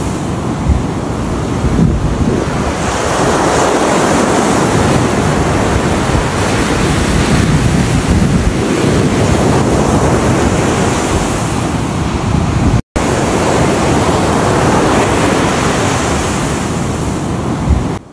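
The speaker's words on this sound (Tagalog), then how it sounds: "Ang laki pala ng mga alon dito" Big ocean waves break and surge on a beach in Rizal, Palawan, in the Philippines. A loud, continuous roar of surf swells and recedes in long rolling cycles, with wind buffeting the microphone and no speech.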